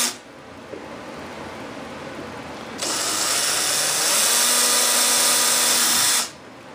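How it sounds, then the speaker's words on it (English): An old power drill bores holes into a model F-18 turbine jet airframe, a loud, steady high whine that starts abruptly, runs for a few seconds and cuts off, after quieter workshop noise. "Drill a bunch of holes, kind of right there at the top."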